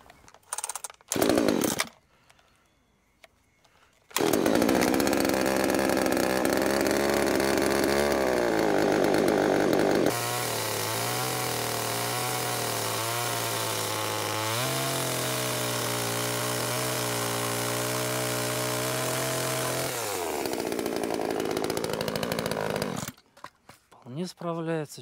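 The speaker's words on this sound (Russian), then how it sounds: "Вот эта бензопила для садовых дел, для выхода на природу, отпилить какую-нибудь доску, маленькую головешку, она вполне справляется со своей задачей" A small gasoline chainsaw for garden jobs cuts through wooden boards and small logs, its engine buzzing loud and steady for nearly twenty seconds with rising and falling revs as it bites. It sits between short idle bursts at the start and end.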